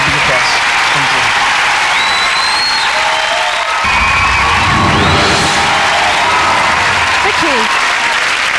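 Studio audience applauding loudly and steadily after a singer's performance on a televised audience show, with cheers and whoops rising over the dense clapping and voices mixed in.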